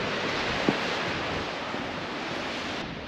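Arctic Ocean waves at Barrow, Alaska wash in as a steady broadband rush mixed with wind noise on the microphone, continuous and fairly close, with one brief knock.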